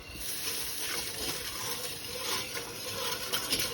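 Beef stock bone broth is poured into a hot pan to deglaze for chili, producing a soft, continuous hissing gush of liquid that stays faint and steady throughout.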